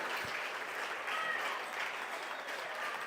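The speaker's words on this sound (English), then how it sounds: "I told you your clapping helps." Audience at a benefit auction for a press claps in a sustained round of applause, moderately distant and even throughout, without any talk over it.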